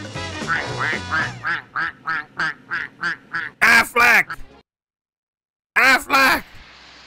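A run of short, evenly paced quacks repeats about ten times, followed by two louder, harsher quack bursts after a brief silence, fairly close and clear.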